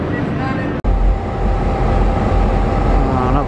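A train in Brisbane rumbles steadily and loudly at close range, a low broad roar with a brief drop-out near the start.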